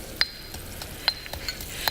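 Food deep frying in hot oil for Thai-style Asian cooking, a faint steady sizzle broken by a few sharp, isolated pops.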